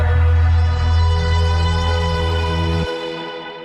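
Music sample playing in Ableton with effects processing added, a loud sustained tonal texture with heavy low end that drops away near the end and leaves a reverberant tail.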